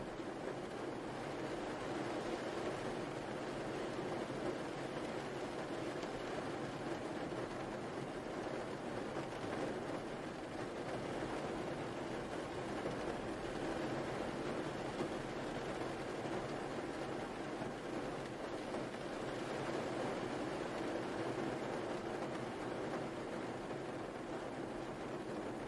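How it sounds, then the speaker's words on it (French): Steady, even hiss of rainfall, a constant wash of soft noise with gentle swells, no voices. "Continuez de vous laisser bercer par le son de la pluie"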